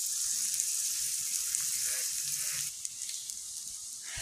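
Meat fries on a clay stove in a home kitchen with a bright, steady sizzle and crackle, close and fairly loud, easing slightly near the end, no voices.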